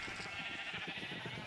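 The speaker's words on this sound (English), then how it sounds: "Really funny thing about the sheep is if we suck blood from one of them" Sheep bleat in the video game Beyond Depth, several short wavering calls in quick succession, fairly faint and close, over a steady background hum with no talking.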